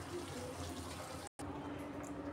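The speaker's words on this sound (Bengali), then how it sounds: "এখন একটু পানি দিয়ে দিলাম।" Water poured into a pan of pabda fish curry, a soft close trickling and splashing pour that runs briefly, cuts out for a moment and resumes, quiet and without talk.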